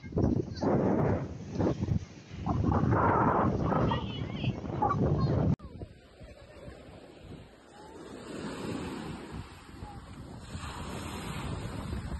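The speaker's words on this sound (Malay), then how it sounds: "Angin kuat." Strong wind blows on the coast of a Krabi island, roaring and buffeting the microphone without pause, with surf beneath it and voices muffled in the first half.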